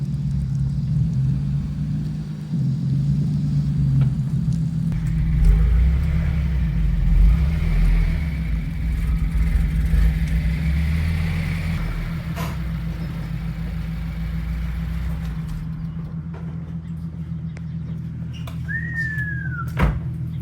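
A 2017 Subaru WRX with an Invidia R400 exhaust runs close by with a deep, steady low rumble that swells briefly midway, then settles, with no talking.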